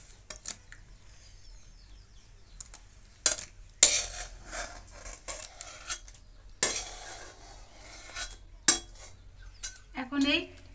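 Boiled tomatoes for homemade tomato sauce are lifted from a pot onto a plate, with separate bursts of metal utensils clinking and scraping against cookware between quiet pauses and a faint background sizzle.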